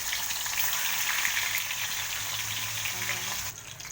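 Bhetki fish pieces fry in hot oil for a mustard bhetki curry, giving a steady, loud, close sizzle that runs unbroken and eases slightly near the end.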